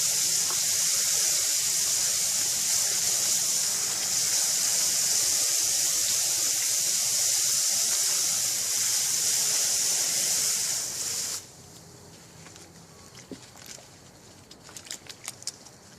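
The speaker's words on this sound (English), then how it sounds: "we're doing now is washing out all the dirt that was on the outside of the wax" Beeswax washed in water to rinse off dirt and honey, a loud steady rush of running, churning water for about eleven seconds, then it cuts off, leaving faint drips and small splashes.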